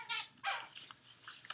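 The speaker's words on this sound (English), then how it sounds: "that's my dog in the background playing." A dog plays in the background, giving a few short yips and whimpery barks, faint and at a distance in a quiet room, with no talk over it.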